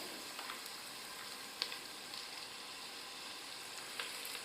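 Onions sautéing with salt in a pan for chicken biryani give a steady, soft sizzle throughout, with a couple of faint stirring taps and no talk.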